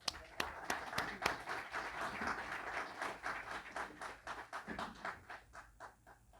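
An audience applauds in a hall, steady clapping with sharp individual claps standing out, moderately loud and continuous.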